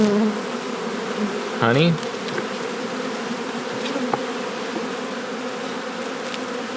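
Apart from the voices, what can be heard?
honey bees buzzing during hive inspection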